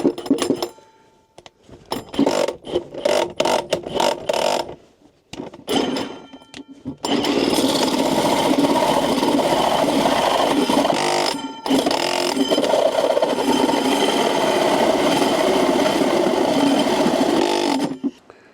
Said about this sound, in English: I put a new pilot drill on the hole saw